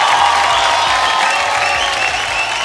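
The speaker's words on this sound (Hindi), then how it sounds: "जोरदार तालियां" An audience at a leaders' stage event claps loudly and steadily in a dense, continuous round of applause with little else heard.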